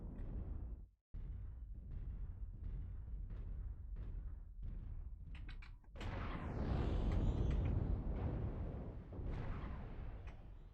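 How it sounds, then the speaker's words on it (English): Cannons firing in a video game battle, a rapid series of booming shots with creaking mechanical noise, swelling into dense sustained roaring fire toward the end. "Listen to those cannons."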